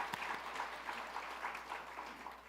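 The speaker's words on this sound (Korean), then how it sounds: "우리 하나님께 영광의 박수 올려드리겠습니다" A church congregation at a New Year blessing service claps in rhythmic unison, the beats coming steadily and moderately loud from a large room.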